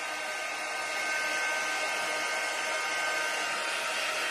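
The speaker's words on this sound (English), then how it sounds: "You want to keep the dryer above your surface." A handheld dryer blowing over craft paste on a stencil, a steady close whooshing roar with a constant airflow hiss that holds evenly for the whole stretch.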